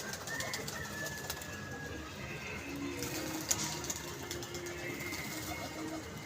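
Domestic teddy pigeons cooing softly at a pigeon club loft, low repeated coos carrying through steady outdoor background noise with faint chirps, no one talking.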